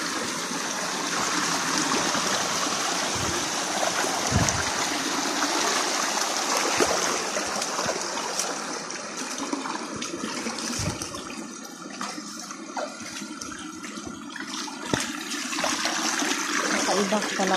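A clear, cold mountain stream rushes among large rocks, a continuous bright wash of flowing water close by with splashy bursts, while people talk at moments over it.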